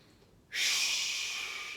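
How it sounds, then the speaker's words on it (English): A deep breath is pushed out through the mouth in one long, steady, breathy whoosh that starts abruptly and slowly fades, heard alone and close. "Then push the air out of your mouth."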